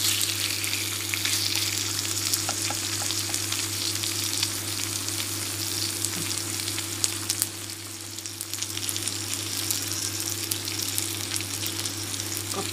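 Pork belly sizzling on a grill pan, a steady close hiss of frying fat that runs unbroken throughout with faint crackles, under a constant low hum.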